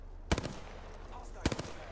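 Gunfire in the battle royale game Apex Legends comes as two short, sharp bursts of rapid shots about a second apart, loud over steady game background noise.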